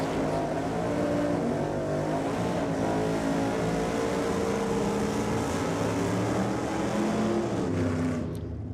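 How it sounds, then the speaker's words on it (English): A supercharged drag racing car at Sydney Dragway roars as it accelerates down the strip, a loud sustained engine howl with rising revs that cuts off near the end. "That's that blown car we heard, Steve"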